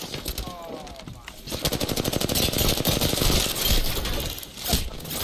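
Rapid automatic gunfire from above in the shooter game Apex Legends, with dense, fast bursts of shots running almost continuously and loud, plus a brief whistling sweep near the start.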